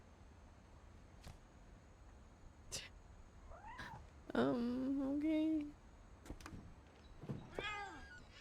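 A cat meowing in the video game What Remains of Edith Finch, a drawn-out plaintive meow followed by shorter mews over quiet background ambience, with a brief spoken word from a player.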